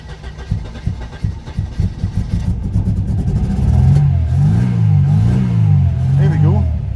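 Mercedes 190E petrol engine without a water pump, catching with uneven starting bursts, then settling into a loud, close running drone that rises and wavers as the throttle is worked; a voice is briefly heard early on.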